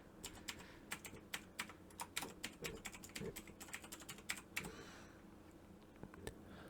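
Fingers tap out an email address on a computer keyboard, a quick irregular run of close, light key clicks with short pauses, fairly quiet in a still room.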